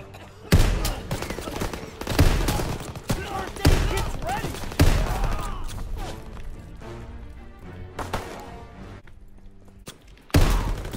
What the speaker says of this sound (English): Yeah, I like the shotgun.